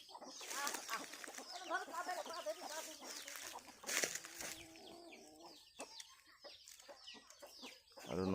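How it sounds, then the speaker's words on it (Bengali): Young roosters raised from breeding cluck and chirp in a poultry pen, a busy cluster of overlapping calls with a brief flutter of wings, fairly faint and uneven, no one speaking. "এই যে মোরগ বাচ্চাগুলো দেখুন।"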